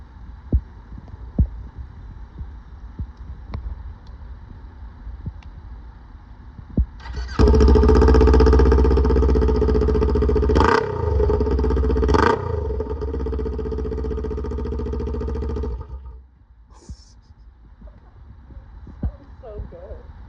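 A Kawasaki Ninja 400 with the stock exhaust removed and no muffler revs loudly and raw for about nine seconds, with two sharp throttle blips mid-run, then drops back to a quieter idle.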